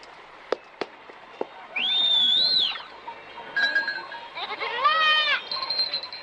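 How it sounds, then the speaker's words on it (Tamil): Cartoon goats in an animated Heidi episode give a few wavering, tonal bleats, loud and close, after some sharp clicks, against quiet background. "உங்க ஆடு ஒரு இடத்துல நிக்கவே மாட்டேங்குது"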